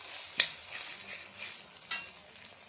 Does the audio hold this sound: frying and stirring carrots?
yes